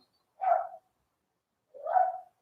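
A dog barks twice, spaced more than a second apart, each a short muffled woof heard from some distance with silence around it.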